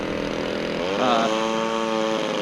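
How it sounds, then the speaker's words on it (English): A small high-revving glow engine on a model airplane whines steadily nearby, its pitch rising and shifting like a buzzing model aircraft motor. "Sorry guys for the noise. It's a glow airplane behind me."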